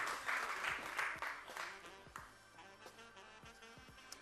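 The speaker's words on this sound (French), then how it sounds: "Sous vos applaudissements, s'il vous plaît." Audience at a televised Africell promotional prize show applauds two winning contestants, a lively burst of clapping that fades under the host's voice as he resumes speaking, with music lingering in the background.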